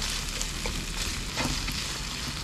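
Chopped onion sizzles and fries steadily in a pan at a campsite, a constant close crackle with a few brief stirring clinks.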